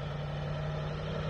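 An off-road vehicle's engine drones steadily and close on the rocky Spanish Steps off-road trail, a constant low hum with no clear rise in pitch over the brief moment.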